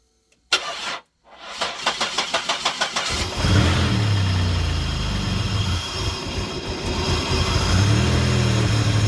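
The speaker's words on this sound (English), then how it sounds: "Now let's go see if it'll start." An engine with a freshly repaired sticking injector, whose O-ring is leaking, cranks in a quick rhythmic series of loud pulses for about two seconds, then catches and settles into a steady, close, rumbling run.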